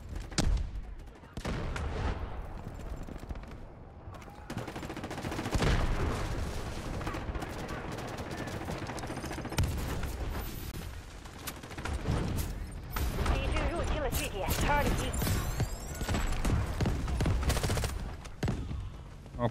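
Constant gunfire and explosions in the mobile shooter game Delta Force Mobile, with rapid bursts, heavy booms and dense overlapping battle noise throughout.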